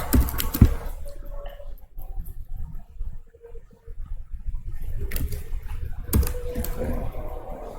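Typing on a computer keyboard comes in clustered bursts of sharp clicks, pausing in between, close and moderately loud over a faint hum.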